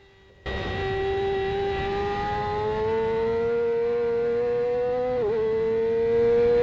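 A racing motorcycle at Cascavel International Racetrack, its engine starting up after a brief quiet and then holding a loud, steady high-pitched whine that rises slowly and dips once near the end.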